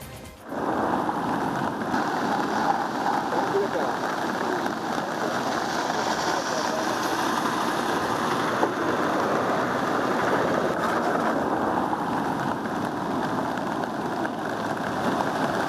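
Continuous heavy rain falls over coffee plantations along a road in Kodagu, a dense, even hiss that never pauses, with a low engine-like hum running underneath.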